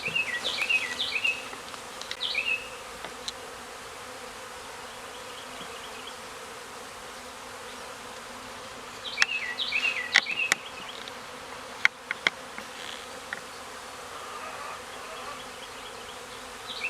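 Honey bees from a small swarm hive buzz close by, with a steady faint hum and individual bees zipping past now and then in brief, louder passes.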